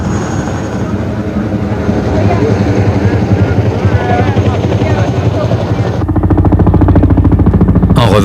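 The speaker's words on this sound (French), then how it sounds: "le bruit, les vibrations et la lenteur des hélicoptères n'enthousiasment guère le public" A helicopter's rotor thumps loud and steady throughout, sharpening into a heavier, rapid beating near the end.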